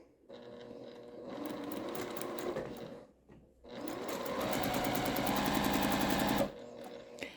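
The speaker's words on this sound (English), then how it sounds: "basically what we're going to do is just stitch around the entire perimeter" A sewing machine stitching around the perimeter of quilt half-square triangle blocks: a steady fast whirring hum in two runs, separated by a short pause, close and clear.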